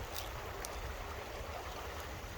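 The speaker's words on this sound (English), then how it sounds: "I just love the sound of natural flowing water" Natural flowing water, a steady broadband rush and hiss like a stream or surf, continuous and even throughout, with no talk over it.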